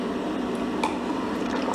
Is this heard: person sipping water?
yes